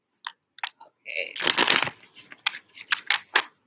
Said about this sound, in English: Just want to make sure I shuffle really well.